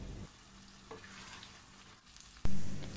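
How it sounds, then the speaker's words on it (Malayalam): Pork and koorka (Chinese potato) roast being stirred in a pan, a faint sizzle with soft scraping, then a sudden loud clatter of the utensil against the pan near the end. "ഇനി നമുക്കിത് നന്നായിട്ടൊന്ന് മിക്സ് ചെയ്ത് എടുക്കാം"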